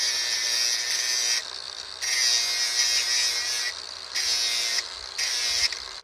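High-pitched whine of a power tool smoothing the end of a steel bolting plate in a garage workshop, running in four bursts of one to two seconds with short dips between, alone and fairly close.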